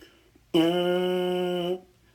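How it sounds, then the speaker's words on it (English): One sustained, lower-pitched trombone mouthpiece buzz, rich and brassy, holding steady for just over a second before cutting off, heard alone. "For a trombone, a buzz will sound like this."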